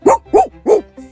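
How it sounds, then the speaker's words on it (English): A dog barks three times in quick, evenly spaced succession, loud and close, followed by a softer, shorter yip. "He barked so the teacher would see."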